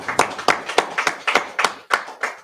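A congregation at a Sabbath service claps in a slow, steady rhythm, about eight distinct sharp claps evenly spaced and fairly close.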